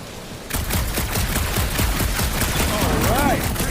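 Gunshots fired at a gunked-up reactor in the game Guardians of the Galaxy, a fast continuous volley of loud shots starting abruptly after a short quiet lead-in, with a whooping electronic tone sweeping over it near the end.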